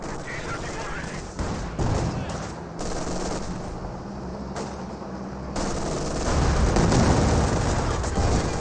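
In the strategy game Company of Heroes 2, anti-tank gun shots and mortar fire crack and thud amid constant battlefield gunfire, with booms swelling toward the end in a loud, dense mix.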